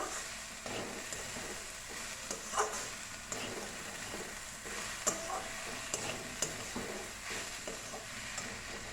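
Ginger paste frying in a pan for an old-style Bengali dish, giving a steady soft sizzle with occasional stirring scrapes and small pops, fairly quiet and close, with no talk.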